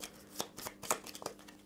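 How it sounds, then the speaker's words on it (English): Board game tool cards being shuffled close up, a few quiet riffling bursts in quick irregular succession. "you'll then shuffle them"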